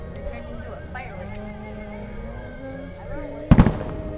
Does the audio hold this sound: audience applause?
no